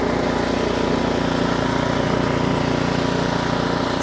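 An Ariens Professional 28 inch snowblower engine runs steadily while the machine backs up in reverse gear one, a close, constant droning hum without pauses.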